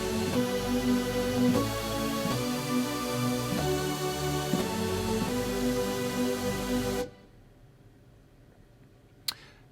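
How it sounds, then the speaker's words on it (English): Big, epic synth pad played on a keyboard, thick sustained chords shifting every second or so for about seven seconds, then cutting off abruptly to near silence with a single faint click. "It's a big kind of epic synth sound."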